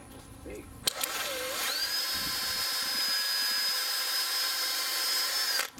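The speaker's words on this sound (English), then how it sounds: "I chopped this off, this clip off with a Dremel" A Dremel rotary tool cuts off a plastic bumper clip on an Acura RSX: a sharp click, then a high steady whine spinning up and holding for several seconds before winding down.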